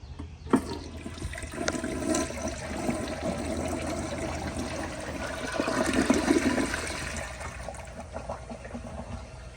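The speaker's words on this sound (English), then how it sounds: "alrighty, here is the first flush." A 1991 Kilgore Aladdin toilet flushes nearby, a sudden whoosh giving way to a steady rushing, gurgling drain and refill that swells slightly before trailing off, with no talking.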